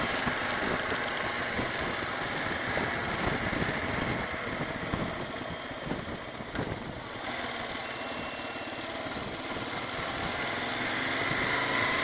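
Steady engine drone from a Kawasaki KLR 650 motorcycle cruising along a remote gravel-and-paved highway in the Northwest Territories, a continuous close hum with wind noise, no talking.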